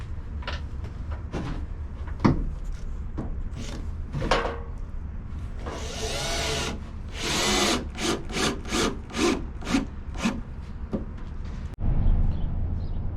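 Screws driven one after another into plywood roof sheeting on a self-built cabin roof, a run of sharp bursts with a denser stretch of driving in the middle, close and loud with no voices.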